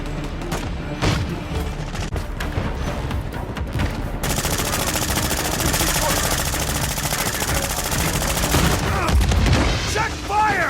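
Call of Duty gunfire at an airplane graveyard map: dense, continuous automatic rifle bursts and scattered single shots crackle loudly throughout, with a faint radio-style voice callout mixed in.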